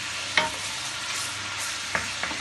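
Meat frying in oil in a pot for Hyderabadi haleem gives a steady close sizzle, with two or three sharp clinks of a utensil against the pot.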